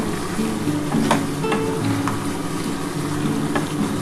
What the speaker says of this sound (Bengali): আর খুব ভালো করে কষাতে হবে যতক্ষণ না তেলটা ছেড়ে ছেড়ে আসে